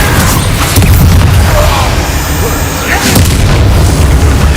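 A Confringo blast spell exploding in Hogwarts Legacy, a loud, sustained booming roar with crackling bursts filling the whole stretch, a voice briefly heard beneath it.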